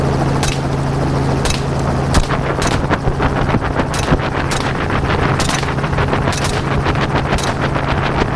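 Rapid gunshots fired from a helicopter at wild hogs during an aerial hunt, several loud cracks in a steady rhythm over heavy rotor and wind roar.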